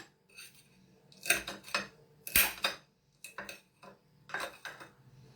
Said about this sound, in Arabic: بعد كده هنقطعه شرايح